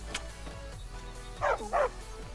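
A small dog in Skyrim gives a couple of short yapping barks, with two louder close yips near the end over steady game background sound.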